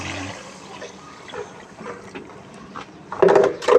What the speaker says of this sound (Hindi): अब इसमें शामिल करेंगे पानी, ताकि अच्छे तरीके से हमारा जो बीफ का गोश्त है वो गल जाए।